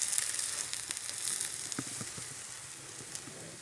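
A radish-stuffed whole wheat paratha frying in a pan over medium-low flame gives a steady, soft sizzle with small crackles and pops, close and moderately quiet, with no talking.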